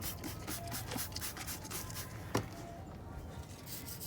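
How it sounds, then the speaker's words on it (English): Purple Power degreaser being scrubbed over grimy engine cylinder heads, a steady run of soft, close rubbing strokes with one sharper scrape partway through and no talking. "You just want to scrub and pretty much take all the nasty gunk."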